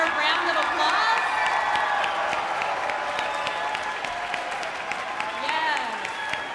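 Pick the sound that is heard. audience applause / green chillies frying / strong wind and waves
audience applause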